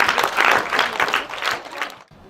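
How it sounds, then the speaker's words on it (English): Audience applause at a Universal Children's Day celebration, a dense burst of clapping from a crowd that fills about two seconds before cutting off abruptly. "give everybody a very big hand clap"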